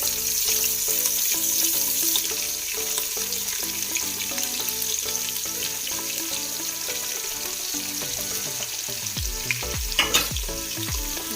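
Long-sliced large onions frying in a pan for chicken biryani give a dense, continuous sizzle, close and steady, with a few clanks of a spatula stirring near the end and no talking.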